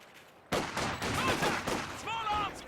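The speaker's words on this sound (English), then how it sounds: "Small arms fire" Small arms gunfire in a military video game erupts abruptly into rapid overlapping bursts of crackling shots, mixed with tonal in-game effects, loud and continuous.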